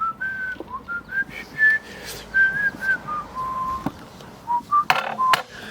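A person whistles a wandering tune of sustained and sliding notes with short pauses between phrases, close and moderately loud, ending with a couple of sharp clicks.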